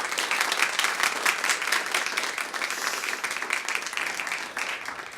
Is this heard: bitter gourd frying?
no